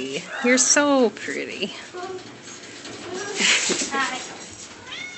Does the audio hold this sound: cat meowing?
yes